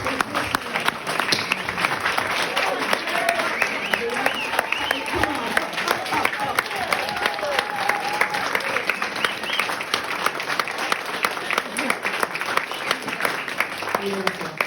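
Enthusiastic applause from a crowd honoring food pantry volunteers, sustained clapping filling the whole stretch, with voices and cheering mixed in underneath.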